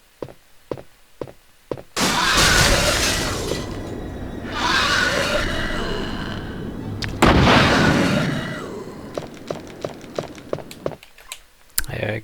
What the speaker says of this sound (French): Et avec le lance-roquette, ça calme tout de suite, hein, c'est sûr.